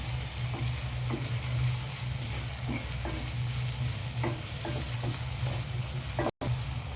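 Salted tomatoes frying in a pan for dal, a constant close sizzle with a series of soft spatula scrapes and stirs throughout, and no one speaking.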